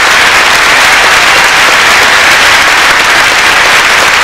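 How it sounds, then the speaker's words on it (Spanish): Audience applause for a priest at a seated gathering, steady and dense throughout, loud and close, a crowd clapping together without pause. "un aplauso, ándale pues al Padre"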